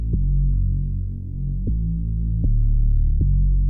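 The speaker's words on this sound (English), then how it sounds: "Now I'm gonna copy this and paste it right into the 808. It's gonna sound much beefier and bassier." Deep, beefy 808 bass in an FL Studio hip-hop beat, sustained low tones that shift pitch with a few soft note changes, loud and alone with no voices.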